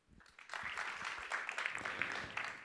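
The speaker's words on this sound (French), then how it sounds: "Je vous demande d'accueillir et d'applaudir Samuel Bourri" An audience at a startup demo day in Paris breaks into applause for a speaker, the clapping swelling in after a brief pause and continuing moderately loud and steady.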